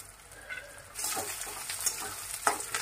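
Onion fries in a pan for Maharashtrian besan pithla, a soft close sizzle that swells suddenly into louder, busier crackling, with a couple of sharper spits.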